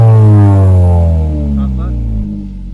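A Kia Proceed GT engine in sport mode, loud and close, with a strong droning tone that sags and falls away over a few seconds after the throttle is pressed, under a brief voice.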